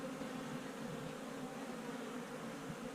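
Honey bees buzzing in a beehive during an inspection, a dense continuous drone that stays level throughout, soft and close with no voices.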